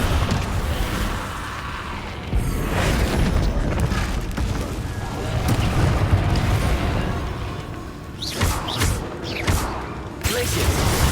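Incendio fire spell blasts in Hogwarts Legacy, heard as a dense, continuous rumble of booms and fiery whooshes with sharper bursts toward the end.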